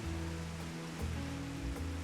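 Steady rain in the Final Fantasy XIV video game, a soft continuous patter and wash with a faint low hum beneath, no voices.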